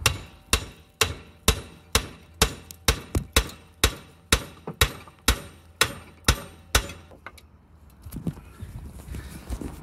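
Sharp metallic hammer blows on Audi TT Mk1 suspension parts ring out in a steady rhythm, about seventeen strikes, then stop and leave a faint rustling background.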